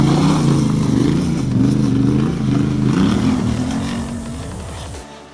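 A 2019 Yamaha Ténéré 700 adventure motorcycle runs with a throaty, pulsing engine note that holds steady and loud, then eases off and drops away near the end.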